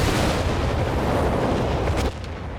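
Airburst artillery exploding in Company of Heroes 3 during a 3v3 battle, a loud, continuous barrage of overlapping booms and rumbling blasts that drops off sharply near the end.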